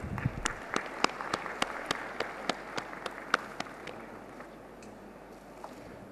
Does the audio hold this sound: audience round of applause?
yes